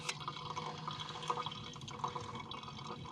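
Coffee pours from a handled pot at a campground, a quiet, close trickle and gurgle of liquid filling a cup for a few seconds.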